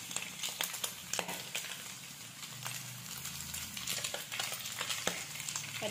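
Onions frying in oil in a pan, a steady crackling sizzle with scattered sharp pops and occasional stirring clatter, close by and fairly quiet, with no talking.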